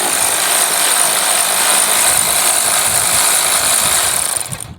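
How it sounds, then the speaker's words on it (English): An electric ratchet zips out 10mm bolts on a 2022 Nissan Frontier, a steady loud motor whir running nearly five seconds alone before cutting off. "so I get my nifty electric ratchet out here"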